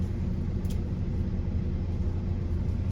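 A manual-transmission car engine pulls away in first gear with a low, steady, close rumble for a few seconds and no speech.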